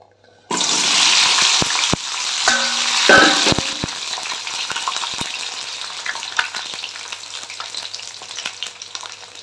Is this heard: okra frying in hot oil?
yes